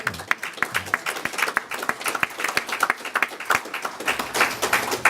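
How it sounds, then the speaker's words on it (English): A modest audience at a policy forum claps for a speaker, individual hand claps clearly distinct in an uneven, lively patter that holds for several seconds. "So let's give him another big applause."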